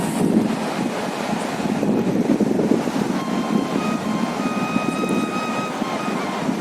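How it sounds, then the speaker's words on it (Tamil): Strong, steady, cold mountain wind near Bhojbasa on the Gomukh trail roars and buffets the microphone, a constant broadband rush with no speech. "பனிக்காற்று அதிகமாகிடுச்சு."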